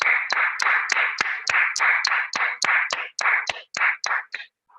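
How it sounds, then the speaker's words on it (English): Steady rhythmic clapping from an audience at a Toastmasters club training session, about fourteen evenly spaced claps at roughly three per second, fairly close and clear, with no talk, trailing off at the end. "Let's give him a clap, please."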